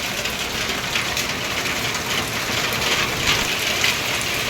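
Heavy rain in Odisha pounds steadily on surfaces, a dense, loud hiss with no pauses or voices.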